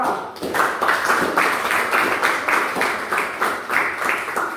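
Classmates give a lively round of applause to a student group after its presentation. The dense clapping falls into a quick, fairly regular rhythmic pulse, close and moderately loud, with no talking over it.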